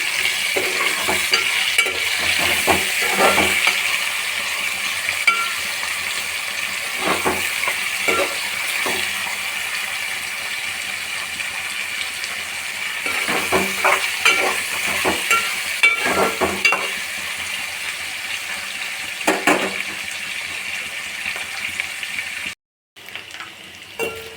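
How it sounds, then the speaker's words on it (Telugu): Dried fish fry in a pan with onion pieces, giving a steady close sizzle broken by frequent stirring clatters of a utensil against the pan; no one speaks, and it cuts off briefly near the end. "వీటిని కొంచెం వేపుకోవాలి"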